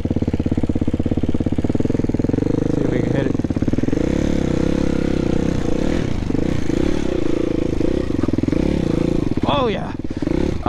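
A dirt bike engine labours along a muddy trail, loud and close, its note rising and falling with clutch work as the rider talks over it.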